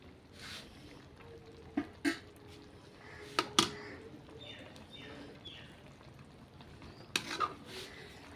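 Ridge gourd curry with red chili powder is stirred in a pot. Sparse spoon clinks and scrapes against the metal come over a faint low sizzle, with quiet gaps between strokes and no talking.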